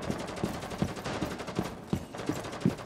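Rapid gunfire in the video game Rainbow Six Siege, a string of sharp shots in quick bursts at a fairly regular rhythm, moderately loud and close.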